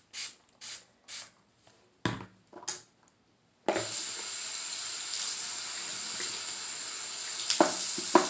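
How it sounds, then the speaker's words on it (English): A water tap is turned on with a few clicks and squeaks of the handle, then runs steadily into a sink at close range with a loud hiss. "If you're wondering what I'm doing when I'm turning on this water"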